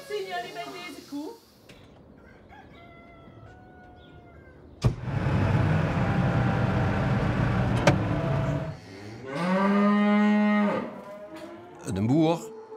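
A cow on a farm lets out several drawn-out moos, some loud and close, separated by pauses, with people talking nearby and a brief mechanical noise.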